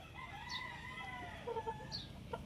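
Chickens cluck softly in short bursts while a rooster crows briefly, fairly quiet and close, with a low background hum and no talking.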